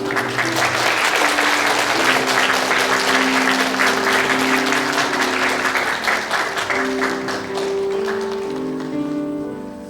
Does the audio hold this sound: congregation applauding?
yes